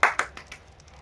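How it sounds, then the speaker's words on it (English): Applause at a streamed fashion show: two sharp bursts of clapping in the first quarter second, then a few lighter scattered claps fading out, fairly quiet and alone. "Big round of applause to everyone who came along."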